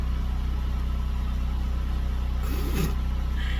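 A box truck's engine drones steadily while driving, a loud low pulsing rumble heard from inside the cab, with a brief rustling crinkle near the end.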